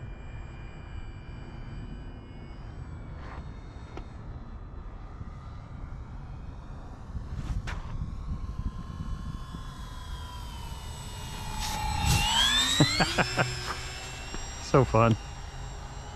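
An AVIOS HobbyKing Albatross HU-16 V2 US Coast Guard RC model plane flying over snow, its electric motors whining with rising and falling pitch as it passes and climbs, while someone talks briefly.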